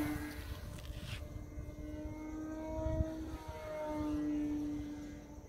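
A Horizon Hobby Carbon-Z Cub SS 2.1 m RC airplane in flight, its electric motor giving a steady whining drone that shifts in pitch as it passes, heard outdoors at moderate distance without talk.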